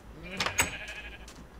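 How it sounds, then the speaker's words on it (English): A Minecraft sheep bleats once, a short nasal call in a game world, with someone talking faintly alongside it. "And we'll spawn some sheep up in here."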